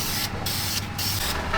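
Spray paint going on as a light first coat, a close, steady hiss broken by brief pauses between passes.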